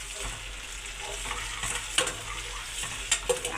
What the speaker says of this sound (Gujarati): જો આપણે એકદમ મસ્ત એવી ગ્રેવી તળાય છે